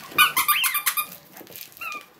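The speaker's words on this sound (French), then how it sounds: "c'est un peu aussi avec un pouet-pouette" A squeaky dog toy that is half plush, half rope squeaks in a quick burst of high squeals, followed by a softer pause and another squeak, close by with faint rustling.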